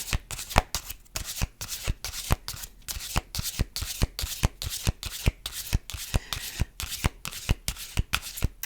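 An oracle card deck is riffled and shuffled in steady repeated bursts, crisp close papery flutters coming roughly every half second with no talking.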